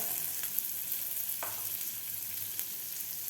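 Butter melts and sizzles in a hot pan while making Mumbai-style anda pav, a soft, steady frying hiss with a few faint clicks, close and quiet with no talk.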